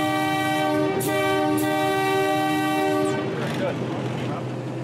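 A heritage locomotive's horn blows a long then short signal for a level crossing, loud and near with strong harmonic tones over steady engine rumble, the notes cutting off around three seconds before fading into running noise.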